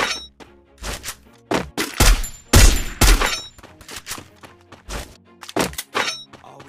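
Gunfire aimed at teammates in a Garena Free Fire battle royale ranked match, a dense volley of sharp shots and heavy thumps in quick irregular bursts, close and loud throughout.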